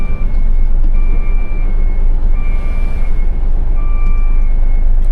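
A Japanese truck backing a trailer through a tight street in Kyoto, its reversing alarm sounding three repeated bursts of steady beeps over a loud, constant diesel engine rumble and traffic noise.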